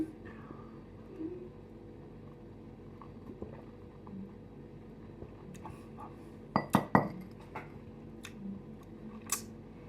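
Drinking glasses clink together in a quiet room, with a quick cluster of bright, close clinks near the end and a few lighter taps around it.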